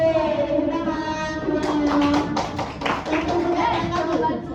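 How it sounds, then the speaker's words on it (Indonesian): Classroom clapping as pupils applaud a correct answer, a burst of quick hand claps starting partway in over a teacher's voice and children's chatter. "Tepuk tangan."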